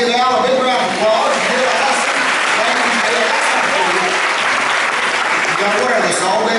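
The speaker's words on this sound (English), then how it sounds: "I want everybody to give Al a big round of applause." A crowd applauds steadily at a Dollywood birds-of-prey show in a theater, loud and sustained throughout, with a voice speaking over the clapping.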